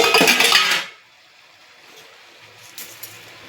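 A spoon stirs a bitter vegetable curry with fried lentil dumplings and a little sugar in a pan. A loud burst of metal scraping and clatter is followed by near silence with a couple of faint clinks.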